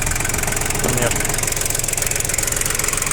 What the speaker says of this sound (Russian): Как видим, работает прекрасно двигатель